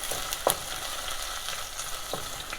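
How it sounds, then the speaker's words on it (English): Onion and garlic fry in hot oil with a continuous crackling sizzle, close and fairly loud, with a few brief stirring clinks. "move both the onion and the garlic into the oil"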